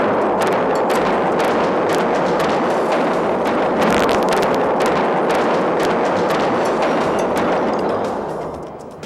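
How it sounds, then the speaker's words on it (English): An explosive demolition detonated inside the containment dome of a nuclear power plant sets off a long, loud rumble with rapid crackling bursts and debris noise that fades near the end. "A remote-controlled camera records the very first explosion ever to be detonated inside the containment dome of a nuclear power plant"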